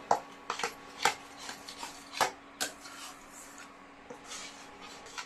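A spoon scrapes and clinks against a pan while stirring and frying a tulsi leaf paste for homemade amla chyawanprash, producing irregular close metallic taps and soft rubbing strokes at a quiet level.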